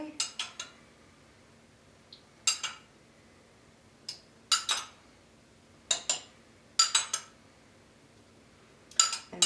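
Spoon stirring cherries into tiramisu in a bowl, giving quiet, sharp clinks and scrapes in irregular clusters against the dish, close and faint with a low steady hum underneath.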